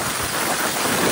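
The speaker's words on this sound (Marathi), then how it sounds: "पाऊस पण थांबतोय." Steady, dense rainfall patters close by on surfaces, a continuous wash of sound with no voices.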